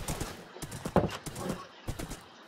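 Horse hooves clip-clop in the Minecraft video game, a quick uneven run of hollow knocks close by, with a brief whinny-like sound mixed in.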